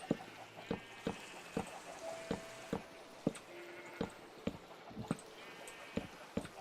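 Sheep bleat faintly in a farmyard with chickens nearby, the soft calls buried under a steady run of sharp rhythmic clicks or knocks, with distant muffled voices in the background.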